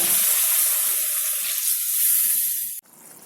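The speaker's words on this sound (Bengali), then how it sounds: "এবার আমি এর মধ্যে জল দিয়ে কিছুক্ষণ সেদ্ধ হতে দেব।" Water poured into a hot pan of vegetarian soybean and potato curry sets off a loud, hissing sizzle that holds steady for nearly three seconds, then drops abruptly to a quieter simmering bubble.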